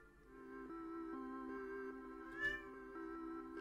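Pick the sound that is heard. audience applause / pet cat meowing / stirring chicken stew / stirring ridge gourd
pet cat meowing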